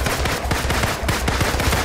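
Rapid gunfire aimed at the player in the Marvel's Avengers action video game, a dense, continuous burst of close automatic shots repeating steadily for about two seconds with no talk.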